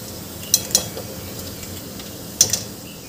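Peanut slices frying in hot oil in a pan for crunchy puffed rice chivda, a steady soft sizzle with a few sharp clinks of a spoon against the pan.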